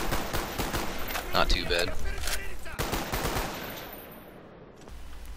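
Rapid bursts of weapon fire from the Black Ops video game rattle in quick succession, with someone speaking briefly over the shots before they fade to a quieter tail.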